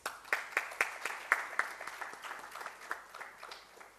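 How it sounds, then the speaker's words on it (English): At the Dakshin Healthcare Summit 2024, an audience claps after a lamp lighting ceremony, a run of distinct, fairly regular hand claps at moderate loudness that grow slightly more scattered toward the end. "Ladies and gentlemen, huge round of applause."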